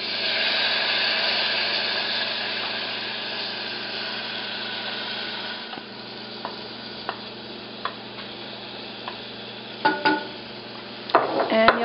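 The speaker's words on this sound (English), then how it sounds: "we will add the mung dal and the basmati rice" Mung dal and basmati rice tip into spiced oil in a pot, giving a steady close sizzle with stirring, then a few sharp scraping clicks and clatters near the end, with no talking.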